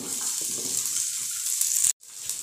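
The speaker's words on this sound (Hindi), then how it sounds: "अब हम इन सभी चीज़ों को लाइट गोल्डन ब्राउन होने तक फ्राई कर लेंगे।" Curry leaves, green chili, onion and ginger sizzling in a pan, a steady bright hiss of frying with a brief dropout near the end before the sizzle resumes.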